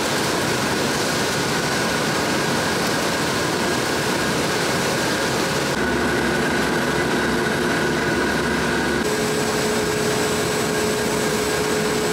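Flax scutching mill machinery unrolls and processes flax bales with a loud, continuous industrial roar and whine, steady hum tones shifting as parts of the line change, no talk over it.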